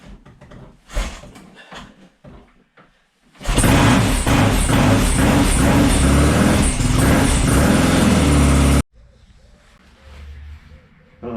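A Royal Enfield 750 Interceptor motorcycle engine starts up and runs loud and steady for several seconds, then cuts off abruptly. Quieter handling noises come before it and after it.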